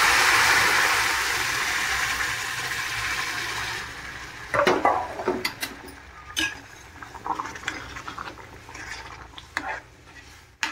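Milk pours into a pan of cooked mashed bananas with a steady liquid rush for a few seconds, followed by clinks and stirring scrapes, close and fairly quiet, no voices.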